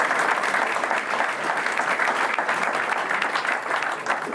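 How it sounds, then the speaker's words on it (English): An audience applauds the team's riders at a cycling team presentation, with loud, sustained, dense clapping that stays even from start to finish and no voices over it. "Can I get, again, applause for all those riders?"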